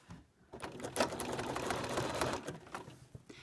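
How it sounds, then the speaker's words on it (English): Sewing machine running a zigzag stitch across a quilt top with invisible thread, a steady close mechanical whir with rapid needle clatter that builds and stays even before easing off. "Now we're going to take this to the machine and stitch the top with invisible thread on the top and a zigzag stitch."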